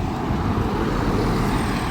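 A bus, an Optare Metrocity, rolls past on the road with a steady low engine and tyre rumble, moderately near and continuous, with no talk.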